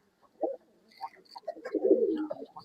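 Pigeons of a prized breeding collection coo in a series of soft, low throaty calls, a few separate coos at first, then a denser burst of overlapping cooing near the end, with no voices.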